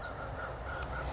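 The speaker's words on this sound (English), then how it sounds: "there's a bunch of crows crowing outside" Crows cawing outside, a few harsh caws rising over a steady background hum, moderately distant.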